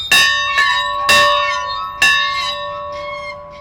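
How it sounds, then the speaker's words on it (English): A loud bell is struck several times at uneven intervals at a regional heritage center, each clang ringing out and decaying with a long metallic hum. "That is a loud Anyone bell."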